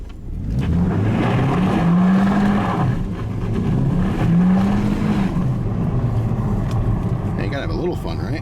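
A 2019 Chevy Impala LT with a 2.5L engine revs up and down in two rising, falling sweeps, loud and close from inside the cabin, with some speech mixed in.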